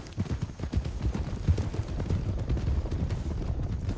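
Horse hooves canter in a video game, a steady rapid clip-clop rhythm that runs continuously and fairly loud for the whole stretch, with no talking over it.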